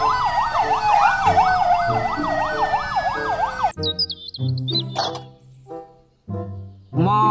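A police car siren wails loudly in a fast, repeating up-and-down cycle for nearly four seconds, then breaks off into short, unrelated sounds.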